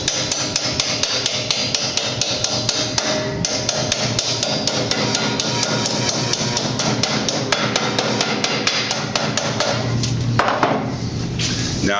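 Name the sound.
hammering sheet metal lip over for a Pittsburgh joint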